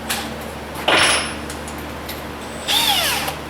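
A power drill with a countersink bit bores into the wood of a slot-ported 15-inch subwoofer box in two short, loud bursts separated by a quieter pause.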